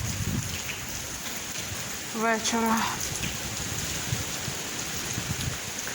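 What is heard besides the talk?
rain falling during a fishing trip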